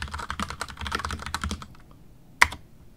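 Rapid typing on a computer keyboard into the Windows search box, a quick run of close, crisp key clicks for about a second and a half, then a pause and one sharp, louder keystroke.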